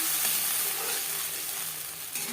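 Tomatoes hitting hot oil already crackling with cumin and bay leaf in a pan: a dense, continuous sizzle and hiss, close and fairly loud, with a brief flare of crackling near the end and no talking.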